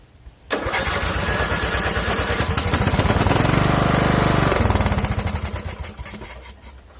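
A tractor engine with a kill solenoid fitted is cranked hard in one loud, continuous churning burst that runs about six seconds. The rapid mechanical pulsing is very close, then slows and fades as the cranking stops.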